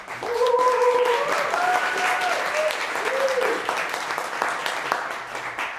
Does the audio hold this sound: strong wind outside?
no